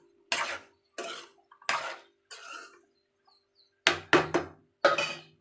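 Metal lid being set on a pot of green chilli and brinjal chutney in a village-style kitchen, with a series of sharp, close clinks and clatters separated by short silences.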